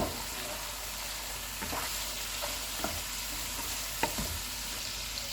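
Spices being stirred in a hot frying pan for potato and pea pulao: a steady, soft sizzle with occasional scraping clicks of the spoon against the pan, close and alone without talk.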